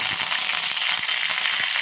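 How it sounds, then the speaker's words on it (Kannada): Mustard seeds and curry leaves crackle in hot oil in a small pan for a tomato rasam tempering, a dense, loud, continuous sizzle with light popping, heard up close with no talking. "ಒಂದು ಚಿಕ್ಕ ಬಾಣಲಿಗೆ ಎಣ್ಣೆ ಹಾಕ್ಕೊಂಡಿದ್ದೀನಿ ಸ್ವಲ್ಪ ಒಗ್ಗರಣೆ ಮಾಡೋದಕ್ಕೆ"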